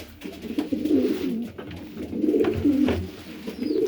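Pigeons in a breeding loft of stock pairs and growing squabs, including a grizzle cockbird, coo steadily and close by, their low, throaty calls rising and falling in overlapping phrases with no talk.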